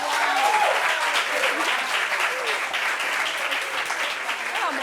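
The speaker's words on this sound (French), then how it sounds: "Applaudissements pour elle." Steady, dense applause from a crowd, continuous and fairly loud throughout with a few faint voices mixed in.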